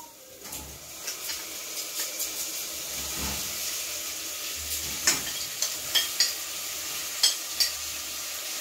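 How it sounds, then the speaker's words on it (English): Beef sizzles with fried onions in a pan, a steady frying hiss broken by repeated stirring scrapes, while birds coo faintly in the background. "So next we add our beef to the fried onions."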